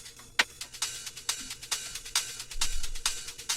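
Crisp shaker hits repeat in a steady rhythm, with shimmering cymbal-like washes layered over soft low thumps; no voices.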